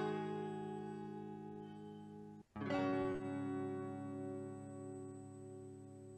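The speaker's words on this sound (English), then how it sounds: "So raw, the guitar sounds like this." Raw, unprocessed guitar sounding piano-like chords that sustain steadily, then a brief dip and a fresh struck chord left ringing out and slowly fading, close and alone with no voices.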